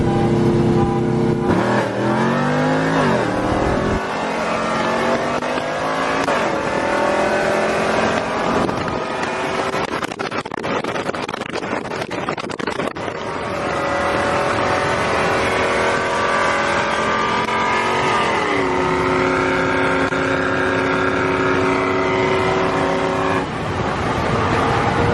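A single cab Chevrolet Silverado pickup accelerates hard through the gears on a timed run, its loud engine roar climbing in pitch, dropping at each shift and climbing again for about twenty-five seconds.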